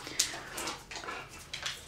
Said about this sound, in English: We have a Cane Corso.